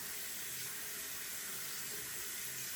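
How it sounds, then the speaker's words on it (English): Tap water runs steadily into a sink as a soft, continuous broadband hiss, close and alone with no voices. "Get my water running."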